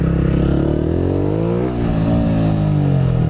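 A 600cc motorcycle engine hums steadily up close while riding in the rain, its pitch dipping and rising slightly as the throttle eases off and comes back.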